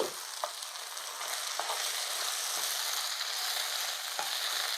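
Onion stalks and egg frying in a pan give a steady, loud sizzle throughout, with a few soft scraping stirs of a spoon on top and no talking.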